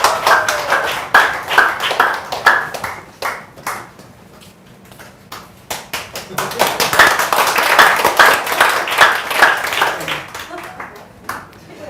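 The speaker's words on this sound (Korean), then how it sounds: "박수 많이 주세요." A seminar audience claps to welcome a guest lecturer, with uneven rounds of hand claps that dip in the middle and swell again before fading, and talk mixed in.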